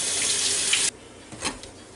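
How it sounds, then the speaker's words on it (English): Tap water runs steadily over a tomato under a kitchen faucet, a loud broadband rush that cuts off abruptly, followed by a few faint drips and a soft splash in the sink. "I got me a tomato here and we'll rinse it off a little bit."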